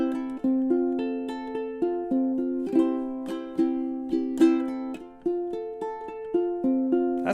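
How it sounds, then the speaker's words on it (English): A ukulele chord is brushed with the thumb again and again, each soft strum ringing out and decaying in a steady rhythm, close and clear with no voice. "I'll take my thumb and I'll strum through the chord that way"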